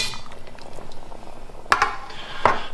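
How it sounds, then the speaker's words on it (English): Pasta in a pot of boiling water, a soft bubbling simmer with a couple of sharp clinks of a utensil against the pot, close by. "just leave it to boil in there for 8 minutes roundabout"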